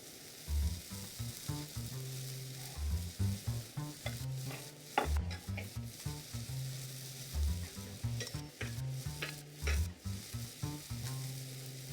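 Turkey burgers fry in a pan on high heat, giving a steady sizzle with intermittent scraping and stirring clatter, close and moderately loud, with no talking.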